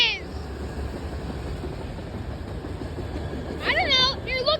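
A CSX manifest freight train hauling autoracks rolls past at Iona Island, a steady low rumble of wheels and cars holding throughout, with a brief voice or squeal rising near the end.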